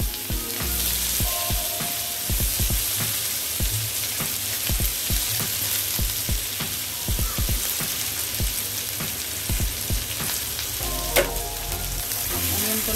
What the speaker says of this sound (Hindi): वही तेल में हम ऑनियन डाल देंगे